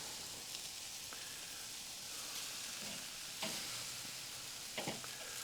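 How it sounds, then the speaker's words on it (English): Teriyaki-marinated country style ribs sizzle quietly in a hot pan, a steady soft crackle with a few sharper pops and scrapes, heard alone without talk. "I can already hear a sizzle"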